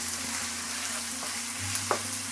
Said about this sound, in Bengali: এখন আমি এর মধ্যে পেঁয়াজ কুচিটা দিয়ে দিচ্ছি। দিয়ে আমি প্রথমে পেঁয়াজটা ভালো করে ভেজে নেব